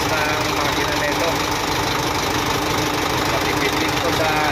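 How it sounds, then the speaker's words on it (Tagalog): A Forland 4x2 dump truck's 4.6-litre four-cylinder mechanical turbo diesel idles steadily, a constant dense rumble with a faint knocking texture and no change in pitch, close and fairly loud throughout. "Medyo tahimik siya, pero ito, malakas ng makina nito."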